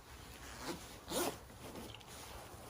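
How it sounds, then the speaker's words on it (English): Zipper on a motorcycle jacket worn over an Alpinestars Tech-Air 5 airbag vest being pulled up, a faint close rasp with a quick brighter zip stroke in the middle. "let's zip it up."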